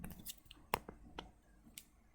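A pen scratching across paper while sketching a graph, a handful of short, separate strokes with small gaps between them, close and fairly quiet.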